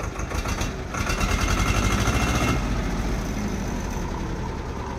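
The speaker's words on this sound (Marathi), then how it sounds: "ही आहे मित्रांनो स्वराज 724 XM ऑर्चर्ड या ट्रॅक्टरची फायरिंग" A Swaraj 724 XM Orchard tractor's two-cylinder diesel engine runs at idle nearby, giving a steady, even chugging throb that continues without a break and with no voices.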